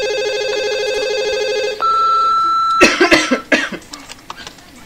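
An electronic telephone rings in the N64 video game Conker's Bad Fur Day, a steady synthetic tone that shifts pitch partway through and then gives way to a few short cough-like bursts.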